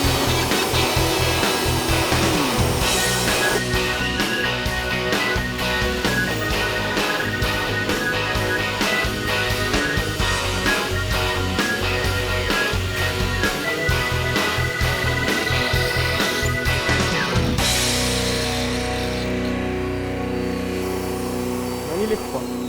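A power drill spins up to 2500 rpm while boring through material in a drill bit test, giving a loud, continuous grinding whine with rapid rhythmic pulsing. It cuts off abruptly near the end, leaving a quieter hum.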